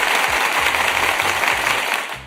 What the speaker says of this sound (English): I have to applaud her 2 more times.